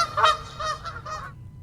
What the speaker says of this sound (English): Can someone please get the geese out of here?